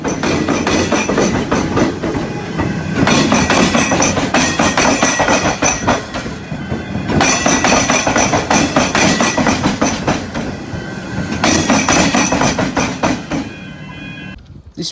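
A tram rumbles across a tram square where train and tram lines cross, at Glen Huntly, with rhythmic clattering and metallic clunks over track joints, loud and continuous, fading slightly toward the end.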